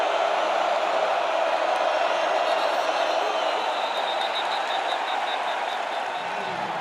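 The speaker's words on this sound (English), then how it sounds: "Crowd noise." The crowd at a college football stadium during a Boston College versus Missouri game keeps up a loud, continuous roar with cheering and whoops. The dense noise holds steady and eases slightly toward the end.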